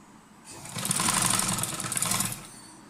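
Sewing machine running steadily as it stitches around the curved edge of a fabric garment in a beginner stitching class, a continuous close whirring motor hum that starts, holds for about two seconds and stops.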